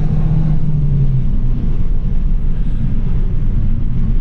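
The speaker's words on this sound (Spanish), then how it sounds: "te está sacando un ruido este coche que todo el mundo está girando la cabeza" An Abarth 695 70 Aniversario engine and exhaust emit a loud, steady low rumble that drones continuously, close and alone without talk.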